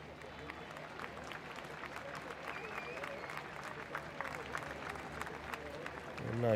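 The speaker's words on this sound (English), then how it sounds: "A nice round of applause from this Frankfurt crowd." A Frankfurt crowd applauds steadily at a wet Monday-night Bundesliga women's football match, Eintracht Frankfurt against SC Freiburg, a continuous even patter that swells slightly at the end while a commentator talks over it.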